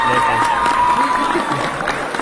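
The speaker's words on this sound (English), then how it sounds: "Hit the claps for that" An audience claps and cheers for a live band, a dense crowd wash carried loudly under a voice talking over it.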